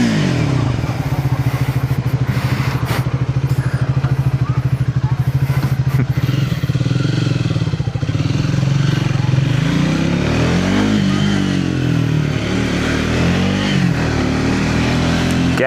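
A motorcycle engine rumbles loudly and close while riding, a steady throbbing idle that shifts into rising and falling revs as it moves off, with a voice faintly underneath.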